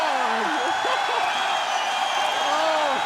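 A hockey arena crowd roars steadily at a fight, a dense sustained cheer with whoops rising over it and excited commentators talking throughout.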